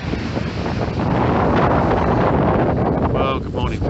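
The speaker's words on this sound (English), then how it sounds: "Been a windy old night, windy day, but it's kind of calming down a little bit." Strong wind roars across the microphone at sea, a continuous loud rushing broadband noise with faint water and boat sounds beneath, gusting steadily without pause.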